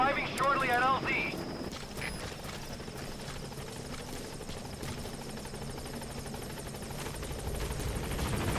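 A Pequod helicopter arrives in Metal Gear Solid V: The Phantom Pain with a steady rotor drone and wind-like roar throughout, swelling slightly toward the end, while a voice speaks over it near the start.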